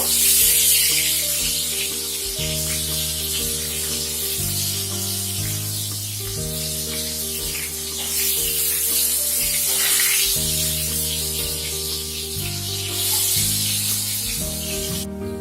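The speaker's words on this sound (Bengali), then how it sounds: "মিডিয়াম ফ্লেমে আমরা পটলগুলোকে ভাজবো।" Pointed gourd (potol) pieces frying in a pan over a medium flame give a steady, close sizzle and hiss, with background music running underneath and no talking.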